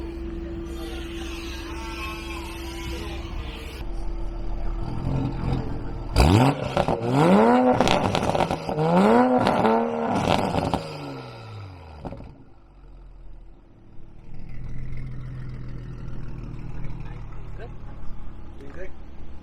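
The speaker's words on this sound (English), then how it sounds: "I can't believe that's a stock exhaust." A Toyota Supra with a stock exhaust barks into a sharp, loud series of close revs that rise and fall repeatedly, then settles back to idle, with people talking before and after.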